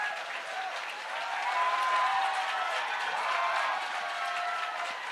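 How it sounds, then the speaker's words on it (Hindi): Audience applause welcoming guests onto the stage at an education event in Bhiwani, a dense, sustained clapping from a crowd that swells slightly and holds steady throughout, with no voices above it. "तालियों के साथ स्वागत करें"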